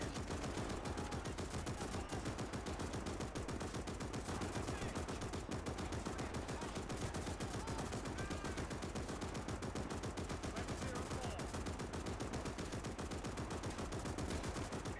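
Dense, continuous automatic gunfire from a World War II battle game set in Libya, rapid rattling shots layered with other weapons firing, steady and unbroken with no voices.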